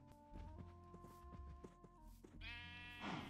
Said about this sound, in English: we got to pick up some sheep along the way